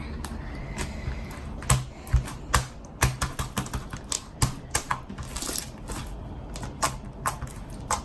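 Homemade slime squished by hand close up, giving a string of sharp wet clicks and pops in irregular bursts over a soft background.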